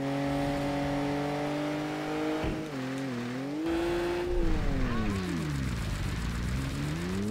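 In the racing video game Kaido Racer, a car with a new engine and exhaust holds a steady engine drone. The pitch rises and falls through gear changes and revs, loud and continuous throughout.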